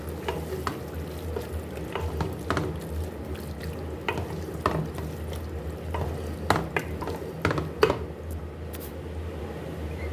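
Half a kilo of chicken mince frying in oil with spices sizzles steadily while a spatula stirs it, giving irregular scraping knocks and soft squelches over the hiss, close and moderately loud.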